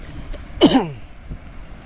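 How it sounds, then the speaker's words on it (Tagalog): A single harsh, throaty cough bursts out close up against faint background noise, followed by quiet. "Inuubo na po si bro."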